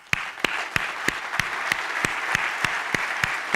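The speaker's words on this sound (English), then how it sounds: "if you wouldn't mind joining me for a round of applause for them" Audience applause at the Monitorama PDX 2018 monitoring conference: a dense, steady wash of clapping across the room, with a few sharp, regular claps standing out close by.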